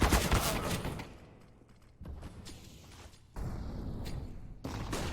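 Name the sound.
gunfire in the video game Counter-Strike (CS:GO)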